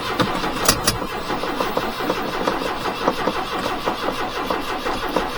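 A mini truck engine cranks and sputters to life, a close, loud, choppy mechanical churn with brief sharp bursts near the start, settling into a rough, uneven running rumble.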